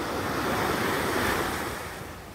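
Sea waves wash onto a shore in a steady, hissing roar that swells briefly and then fades a little, heard alone with wind in the background.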